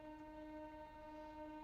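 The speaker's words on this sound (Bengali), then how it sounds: "খালি ট্রেন যাচ্ছে।" A passing train on a rail line beside a road gives a quiet, steady tonal drone with layered harmonic pitches, like a distant horn, holding evenly throughout with no voices.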